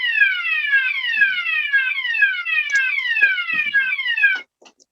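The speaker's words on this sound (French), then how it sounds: "J'ai un réveil qui fait que ça." A bedside alarm clock used as a kitchen-style timer rings with a fast, repeating electronic chirp. The ringing runs loud and steady for about four and a half seconds, then cuts off abruptly, leaving a few faint knocks.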